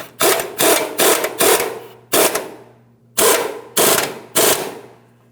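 Impact wrench tightening the mounting nut on a front upper control arm of a 2007-2014 GMC Sierra 2500 HD, loud close rattling bursts, seven short hammering runs with brief pauses, no talk.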